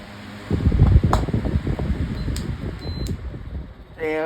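A pedestal fan runs on high speed with a steady, close whooshing air rush and faint rattling, then a short whirring note near the end.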